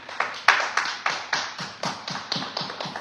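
Sparse applause from a small church congregation, a handful of people clapping in a loose, steady rhythm of distinct claps, moderately close, with no talking over it.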